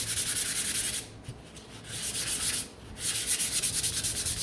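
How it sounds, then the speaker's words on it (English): Sandpaper rubs over a painted wooden snowman piece in close, loud back-and-forth strokes that build a rhythmic scratchy rasp, with two brief pauses between bursts. "so she was first, so I'm gonna grab my sandpaper"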